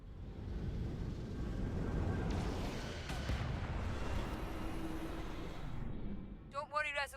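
Torpedo strikes on a starship in the Star Trek Resurgence video game make a heavy, sustained rumbling roar of explosions, with a voice briefly speaking near the end.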